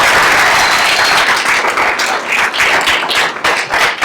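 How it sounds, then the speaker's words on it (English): Loud, dense applause from an audience at a discussion event on American democracy, honoring Andrew Yang; a thick wash of many clapping hands, close and sustained throughout. "so I just want to give Andrew a round of applause"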